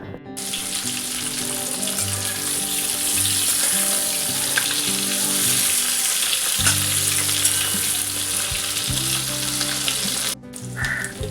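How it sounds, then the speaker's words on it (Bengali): Potatoes and cauliflower frying in hot oil, a loud, steady sizzle that crackles on throughout with occasional stirring scrapes, close up and with no voices. "এই যে আলু ফুলকপিগুলো একটু ভেজে নেবো"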